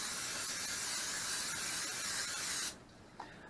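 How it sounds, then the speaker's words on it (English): Steady hissing spray of coconut oil into a narrow silicone loaf pan, loud and continuous for about two and a half seconds before cutting off abruptly, followed by a small faint knock. "I'm going to spray it with coconut oil."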